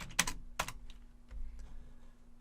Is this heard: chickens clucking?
no